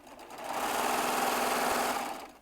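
A Baby Lock serger runs continuously at speed, a dense, close mechanical whirring that swells in and holds steady for about two seconds without any talk.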